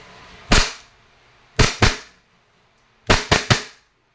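Umarex Glock 17 Gen 4 airgun fires six sharp, snappy shots in quick groups: one, then two close together, then three in rapid succession, each crisp and near with silence between bursts.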